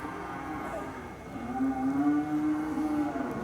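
Cattle in a herd moo, with one low, drawn-out bovine call rising and holding for a couple of seconds over a murmur of outdoor background noise, with no talk.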